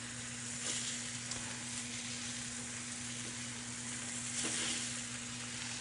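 Monkfish sizzling in a paella pan of soft cooked vegetables, a steady frying hiss with a couple of small stirring bumps and a faint constant hum beneath.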